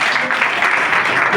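A congregation at a Sunday worship service claps loudly together, a dense, steady wash of applause with no breaks for over a second.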